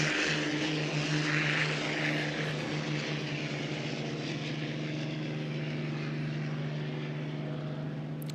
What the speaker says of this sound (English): right now, we have two beautiful race boats on the course